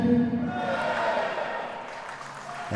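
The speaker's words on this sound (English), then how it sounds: "And the crowd goes wild" A crowd at a table tennis doubles tournament cheers and claps in an indoor hall, a dense sustained roar that is loud at first and eases slightly, with a voice mixed in.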